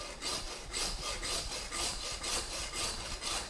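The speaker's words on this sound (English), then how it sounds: "we're going to take a bone saw, and we want to come, I'd say about an inch down from these antler burrs" A bone saw cuts through deer antlers just below the burrs, removing them from the skull with steady back-and-forth rasping strokes, close and loud throughout.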